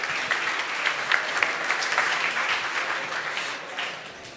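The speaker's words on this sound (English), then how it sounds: "Big round of applause." Audience applause for a speaker taking the stage at a Nestlé tech talk, a steady wash of many hands clapping at moderate volume that holds evenly and thins slightly toward the end, with no voices over it.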